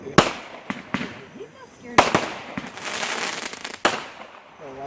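A Pro Green 200 gram fireworks cake by Big Fireworks fires outdoors, with a handful of sharp separate bangs, each trailing into crackle, spaced out over a few seconds.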